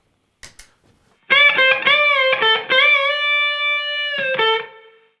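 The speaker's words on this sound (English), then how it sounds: "add just a little bit of reverb, which is what I'm doing here with the Keeley Caverns" Electric guitar notes and a sustained chord through a Keeley Caverns reverb pedal, ringing out with a lingering reverb tail, played alone after a couple of faint taps.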